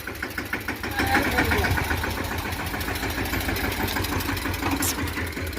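A Mahindra Yuvraj 215 tractor engine chugs steadily at idle with a rough, regular knock, close by, while voices talk faintly underneath.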